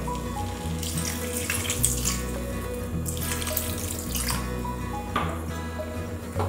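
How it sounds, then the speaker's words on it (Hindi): Water splashes steadily into a pan of pav bhaji while it cooks on the stove, a continuous rushing pour with a background hum and a few small clatters, close and fairly loud, with no voices. "इसमें थोड़ा पानी डालेंगे।"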